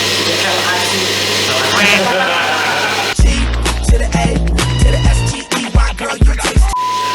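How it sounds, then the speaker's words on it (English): A kitchen blender starts up loud and runs in uneven surges and whirs while mie Aceh is being prepared, following a stretch of background chatter and singing. "sounds so loud, the blender is going on"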